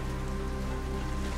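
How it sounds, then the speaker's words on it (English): Steady rain falls during a thunderstorm as an ambience effect in a tabletop role-playing session, a dense, even wash of drops with no talk over it. "the rain is definitely not letting up, and you can hear the thunderstorm brewing"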